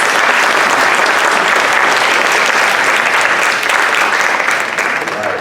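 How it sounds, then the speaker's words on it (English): Loud, dense applause from the audience at the Regional Housing Summit 2025 in Salinas, California, clapping for a panel, sustained close and full before tapering slightly at the end. "Give a round of applause for the panel today."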